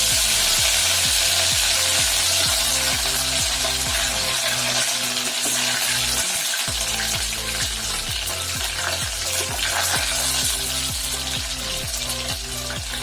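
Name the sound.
curry leaves frying in oil for Pallipalayam chicken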